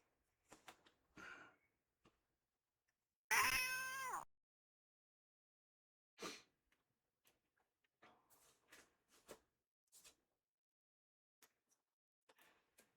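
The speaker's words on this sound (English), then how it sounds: "Kind of sounds like they modified a squeaky door effect to make the cat screech." A cat screech from the King's Quest III video game rings out as one short, high, warbling yowl among sparse quiet clicks and taps.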